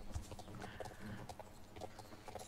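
Rhythmic clip-clop of a horse's hooves while riding in the video game Redwood Point, steady trotting beats, faint and close, with no talk over them.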